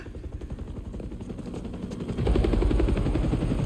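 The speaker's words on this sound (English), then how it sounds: "No, I know they didn't bring the helicopter out there." Helicopter in the Spider-Man 2 video game, a steady rotor thrum that grows louder and heavier partway through, mixed with rapid gunfire-like bursts.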